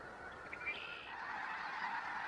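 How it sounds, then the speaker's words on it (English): A large flock of snow geese honks continuously at Quill Lakes in Saskatchewan, a dense, steady chorus of overlapping calls from a resting migratory gathering. "Quill Lakes in Saskatchewan draws in tens of thousands of snow geese looking for a place to rest and feed."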